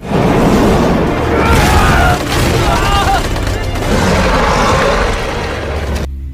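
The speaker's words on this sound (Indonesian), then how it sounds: "Tentara bayaran lalu dengan cepat mengepung monster dan langsung melepaskan tembakan mereka" Dense bursts of gunfire and booming blasts crackle continuously and loudly as mercenaries fire on a giant snow monster, a chaotic battle din with no pauses.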